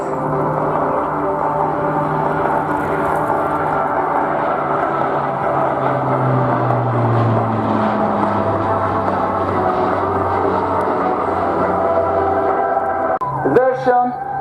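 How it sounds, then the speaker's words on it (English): A Spartan military transport aircraft rolling through an aileron roll at the RIAT airshow, its engine drone loud and steady throughout with a slowly shifting pitch, heard alone with no talk. "now, the Spartan will pull off an aileron roll"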